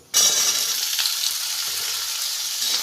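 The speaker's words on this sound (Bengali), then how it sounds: "ফোড়নটা আমার হয়ে গেছে ভাজা এরপর দিয়ে দেবো আলুগুলো" Potatoes dropped into hot oil with tempering spices for a fig curry, the frying bursting into a loud, close hiss after a brief near-silence and then holding as a steady sizzle with faint crackles, no talking.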